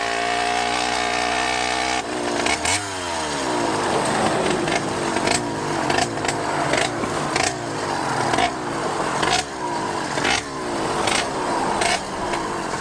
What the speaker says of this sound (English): I rev the motor like that so I don't sneak up on people and scare them